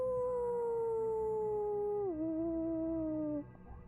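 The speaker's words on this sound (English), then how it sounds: "You hear a couple of howls" Long, drawn-out howls, like a wolf's, used as a sound effect in a tabletop role-playing game. Two sustained wavering cries glide slowly downward and hold steady, loud and alone, then cut off into a low rumble.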